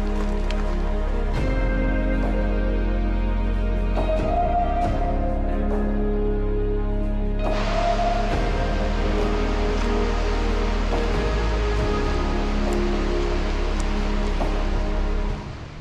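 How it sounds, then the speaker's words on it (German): Steady rain falls outdoors on a mountain hike on the Großer Widderstein, a continuous hiss with scattered drops, growing fuller and louder partway through, no voices. "es fängt jetzt hier das Regnen an"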